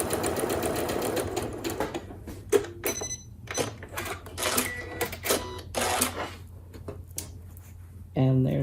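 A sewing machine stitches a seam on a fabric face mask in short, rapid mechanical bursts separated by pauses, with a final sustained run of stitching at the end.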